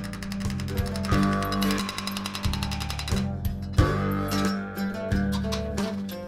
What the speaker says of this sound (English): now I'm hammering out this symbol by hand